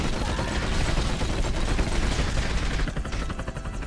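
Rapid, sustained gunfire rattles continuously in the video game 007: From Russia with Love, dense bursts of shots filling the scene before thinning slightly near the end.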